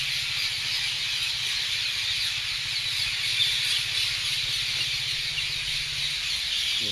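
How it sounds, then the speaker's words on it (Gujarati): Parrots gathered in a farm's lemon orchard fill the air with a constant, shrill screeching chorus, loud and unbroken, over a faint low rumble in the background and without any speech. "અમે એમાં રસોડી રોબે જો પોપટની અવાજ સાંભળવા આવી ગયા"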